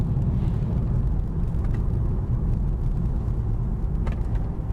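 Steady rumble of a 2013 Audi A3 Sportback S Line Black Edition with multi-link suspension driving over road bumps, a continuous close engine and road noise with faint thumps, no talking.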